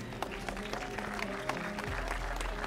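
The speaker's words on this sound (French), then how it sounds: "Merci beaucoup, Vandal, que vous pouvez applaudir." Audience applause at a live gaming tournament event, continuous crowd clapping with scattered sharper claps over a steady low hum.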